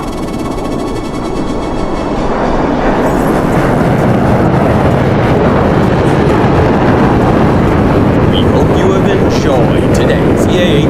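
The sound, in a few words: EA-18G Growler jet passing at a virtual airshow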